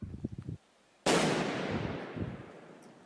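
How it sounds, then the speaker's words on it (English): A grenade thrown toward a bunker goes off in one sudden loud blast that rolls away in a long fading rumble, after a short burst of muffled activity and a moment of near silence. "police resorted to throwing a grenade towards the bunker"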